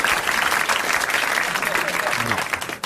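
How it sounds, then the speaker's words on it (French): Studio audience at a French radio-TV game show applauds a Dutch listener who won 500 francs, dense steady clapping for nearly three seconds with some voices mixed in. "Il a droit à vos applaudissements."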